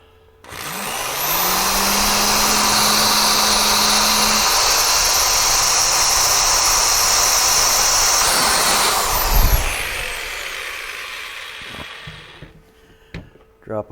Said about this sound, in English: Now we'll drill our last one down here.